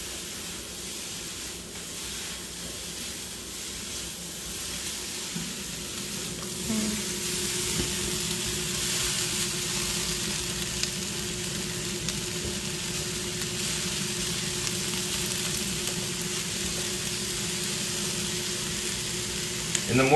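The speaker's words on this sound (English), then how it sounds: "And the more the onions cook, the more they're gonna just caramelize and taste better and awesome." Onions and carrots fry over high heat in a pan, giving a loud, constant sizzling hiss that swells after a few seconds and then holds steady, close by, with occasional faint stir scrapes.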